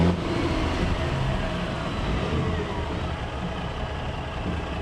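A Peterbilt 379 truck pulling a green trailer at a street fair, a steady heavy engine rumble with passing-vehicle noise that fades slightly toward the end.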